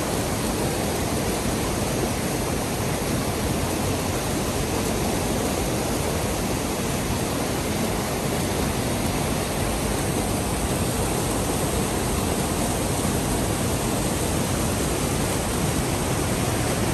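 Rushing water from a rising stream or waterfall at a bathing spot, a loud, steady, unbroken roar with no voices.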